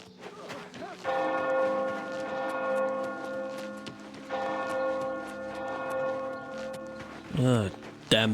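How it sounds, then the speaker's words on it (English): Deep church-style bells in the game Oblivion Remastered, two long ringing peals with sustained resonant tones, moderately near, with footsteps and brief talk around them. "Oh, damn bells"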